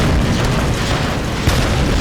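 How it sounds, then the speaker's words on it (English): A dense, continuous rumble of booming explosions in the video game Tomb Raider with a sharper burst near the middle, loud and sustained throughout. "Way more explosions."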